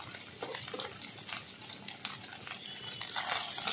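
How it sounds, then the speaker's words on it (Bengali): Fresh mourola fish frying in a pan, giving a soft, continuous sizzle with light crackles and occasional stirring clinks, fairly quiet and close. "ভালো করে আমি এইভাবে ভেজে নিচ্ছি"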